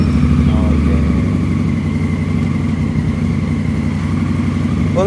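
A used adventure motorcycle's engine idles loud and close, its steady mid-pitched chug holding evenly throughout.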